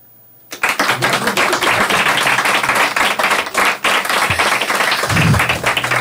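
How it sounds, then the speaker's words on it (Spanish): A podcast studio audience bursts into loud applause after a moment of quiet, dense rapid clapping close to the microphone that continues steadily, with a few voices faintly mixed in. "¿Dais un aplauso?"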